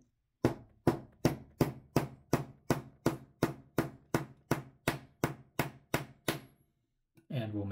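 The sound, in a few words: hammer tapping brass bushing into antique lantern clock plate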